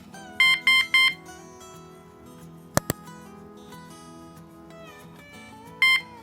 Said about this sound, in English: Now it counts down to 5, 4, 3, 2, 1, and it gives you a beep.